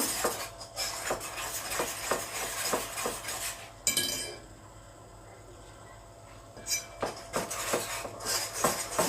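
Cake batter for an apple cake, with sifted baking powder, being mixed in a bowl: steady rhythmic clinks and scrapes of a utensil against the dish, pausing briefly midway before resuming, close and moderately loud with no talk.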